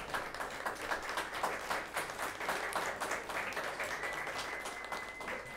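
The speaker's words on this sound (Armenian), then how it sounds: "բարձր ծափահարություններով մեր ընտրապայքարի բացումը" Loud, dense applause in a comedy studio marks the opening of an election campaign. It runs steadily for several seconds without talk, and a faint thin tone appears near the end.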